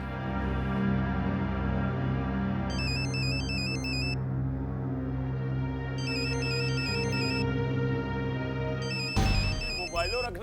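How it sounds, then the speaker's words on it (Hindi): A mobile phone rings with a repeating electronic melodic ringtone, steady and fairly loud over a sustained musical background, with a person speaking over it. "मोबाइलों रखना भी जी का जंजाल ही है। मौका कुमौका जगह बेजगह बचता ही रहता है।"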